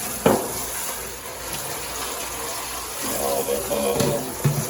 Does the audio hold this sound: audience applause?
no